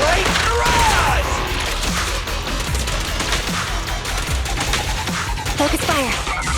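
Dense, loud barrage of rapid gunfire and mechanical impacts from the Starlight Barrage attack in the action game Zenless Zone Zero, continuous bursts layered with crashes and effects.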